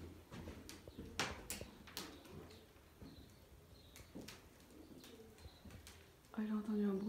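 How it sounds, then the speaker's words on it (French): Pigeons coo softly in an old church bell tower, a low repeated cooing among rustling and footsteps, with a person speaking nearby. "Il y a encore des pigeons ou pas?"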